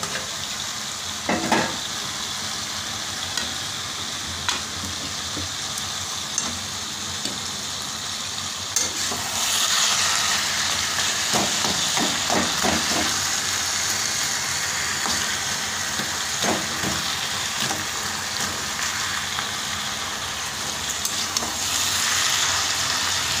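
Fish heads frying in hot oil in a home kitchen, giving a steady close sizzle that swells louder partway through, broken by occasional scraping stirs and clinks of a utensil against the pan.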